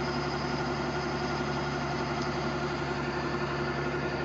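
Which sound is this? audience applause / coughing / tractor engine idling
tractor engine idling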